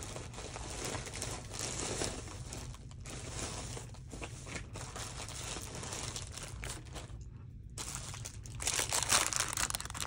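Close, continuous crinkling and rustling of plastic packaging being unwrapped, with irregular crackles and brief pauses, no voices.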